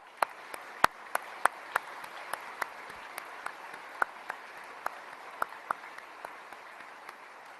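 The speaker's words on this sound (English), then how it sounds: "Let's give the entire Holsey family a round of applause." An audience at a Southcom change of command ceremony applauds the Holsey family, a steady, fairly distant wash of many hands clapping with a few sharp, louder claps standing out.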